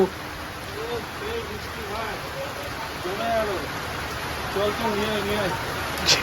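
Rain falling as a steady hiss in the background while people talk over it, with a few louder bursts near the start and end.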